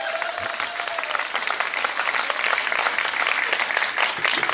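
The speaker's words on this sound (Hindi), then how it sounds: "तालियां कमजोर है" Audience at a Hindi poetry gathering (kavi sammelan) in Beawar breaks into sustained applause, a dense, even patter of many hands clapping throughout, moderately loud and unbroken.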